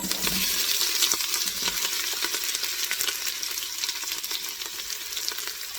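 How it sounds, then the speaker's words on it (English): Green chilies and onions fry in an Instant Pot for vegetable biryani, giving a dense, steady close sizzle with small crackles throughout and no talking. "Then I add some of the green chilies that I've cut before, and some onions,"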